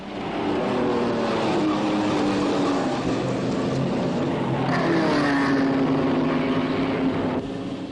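Supercharged straight-eight Bugatti race cars at the Monaco Grand Prix, a continuous loud engine roar with rising and falling pitch as cars pass, steady and without talk.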